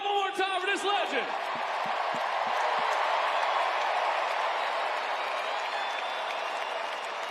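A crowd applauds and cheers in a baseball stadium at a Savannah Bananas exhibition game, a broad sustained roar of clapping after a brief opening of amplified talk over the sound.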